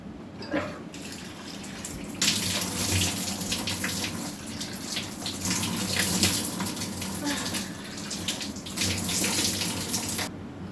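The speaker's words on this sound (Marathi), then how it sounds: "सर्वात अगोदर आपण आपलं तोंड धुवून घेऊया।" Water runs from a tap while a face is washed, a steady splashing stream that starts after a couple of seconds, with intermittent splashes and drips over the flow before it stops near the end.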